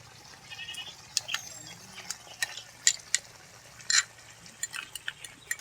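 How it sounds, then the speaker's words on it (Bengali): A spoon scraping and stirring yogurt into spice masala in a pan, scattered light clicks and scrapes over a faint low sizzle, fairly quiet and irregular. "দইটা ভালো করে মিশিয়ে নেব"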